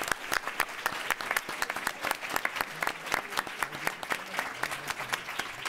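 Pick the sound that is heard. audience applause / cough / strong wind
audience applause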